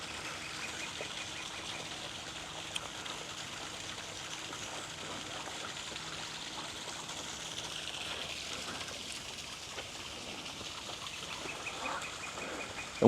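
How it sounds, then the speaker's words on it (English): A duck quacks intermittently at moderate distance in a garden at dawn, over a steady background of trickling water and birdsong, with no voices. "The duck."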